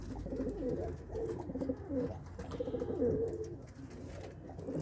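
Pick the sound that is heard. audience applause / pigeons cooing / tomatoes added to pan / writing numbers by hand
pigeons cooing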